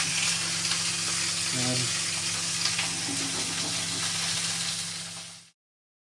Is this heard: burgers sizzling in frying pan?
yes